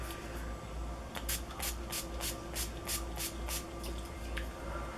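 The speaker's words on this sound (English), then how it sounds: "now I am just going to go ahead and put some setting spray on" A rapid series of short, crisp spritzes from a pump bottle of NYX Matte Finish makeup setting spray, about ten in quick succession, close to the microphone over a quiet background hum.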